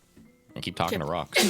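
A single sharp sneeze bursts out near the end of a brief spoken phrase, loud and close during a tabletop role-playing game session.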